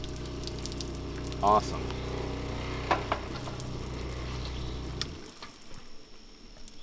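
Water gushes from a tap at an off-grid cabin after its pump has been primed, a steady rushing flow that stops abruptly near the end with a few clanks, and a voice speaks briefly.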